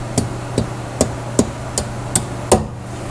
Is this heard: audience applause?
no